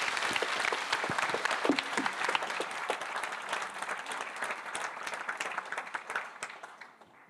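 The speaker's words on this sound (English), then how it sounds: "give them a big" An audience claps for a conservation panel of women, a steady burst of applause from a crowd filling the room before fading out at the end.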